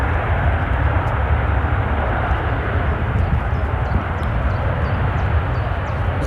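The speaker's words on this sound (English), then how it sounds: "Look what's just taxiing out. The Singapore Airlines A350." Singapore Airlines Airbus A350 taxiing at Manchester Airport, a steady broad jet engine roar heard from a distance, continuous throughout without speech.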